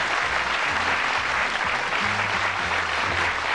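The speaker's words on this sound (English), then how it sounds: "Ladies and gentlemen, warm round of applause." A studio audience at the television darts game show Bullseye applauds, with steady dense clapping that fills the whole stretch at an even loudness, and no voices come through.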